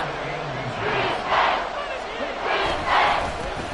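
A stadium crowd in an American football video game roars steadily, swelling into louder surges twice, while a commentator talks over it.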